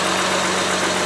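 A Honda Pilot engine idles after a failed fuel injector was repaired, a steady low hum with a constant even drone and no speech, heard close and moderately loud.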